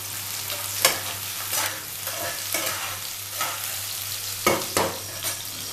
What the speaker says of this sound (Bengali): পেঁয়াজটা আমি একটু ভাজা ভাজা করে নেব। ওর সাথেই এই আলুগুলো দিয়ে দেব